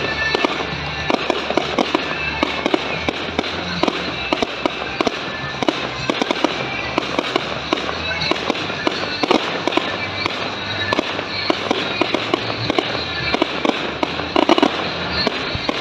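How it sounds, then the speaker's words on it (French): A public fireworks display ends in its grand finale, a dense, continuous barrage of crackling bursts and booms heard from nearby for the full stretch, with no talk. "Le feu d'artifice était super."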